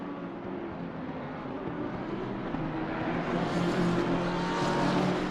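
Lamborghini race car engine in a racing video game at the Zolder circuit, a continuous loud droning roar that rises in pitch toward the end as the car accelerates.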